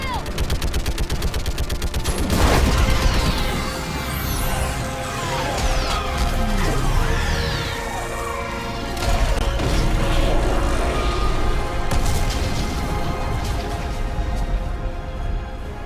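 Sustained gunfire and heavy booms of an orbital strike on a Reaper base during the war for Rannoch in Mass Effect, loud and dense throughout with a big blast near the start and shouted voices mixed in.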